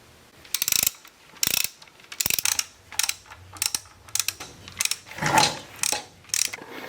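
A hand ratchet works on the power steering pump bolts of a Mercedes diesel in short, close, crisp bursts of clicking, about a dozen in a loose irregular rhythm with brief gaps between strokes.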